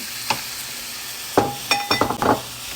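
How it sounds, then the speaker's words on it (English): A steak sizzles on a hibachi griddle with a steady frying hiss, broken by a few sharp metallic clinks and scrapes near the end. "I like my steak well done. So just let it cook."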